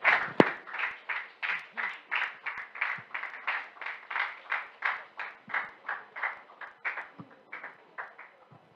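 A church congregation at a graduation testimony service claps together in a steady unison rhythm of about two beats per second, full and close, carrying on for several seconds.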